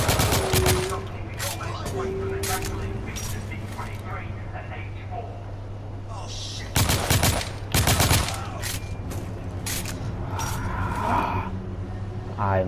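Shotgun blasts in The Order: 1886, several loud broadband bursts: one near the start, a cluster around the middle, and more short cracks later, over a steady low hum and faint game voices.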